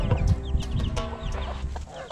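Hens and young chicks cluck and peep together in a yard, a busy close run of short calls and soft chirps.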